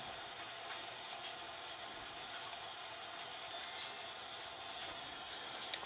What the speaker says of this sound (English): Alright, so we do have a little bit of water coming out,